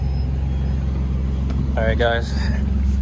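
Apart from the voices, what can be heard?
single turbo Nissan G35 driving slowly on the road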